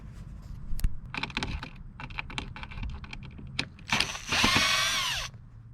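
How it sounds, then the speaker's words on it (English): Power drill backing screws out of a 2017-or-later Mazda CX-5 front bumper: scattered clicks and handling noise, then a loud, close whirring burst of about a second and a half that winds down, with no voices. "we're just gonna undo all these bolts, or sorry, screws"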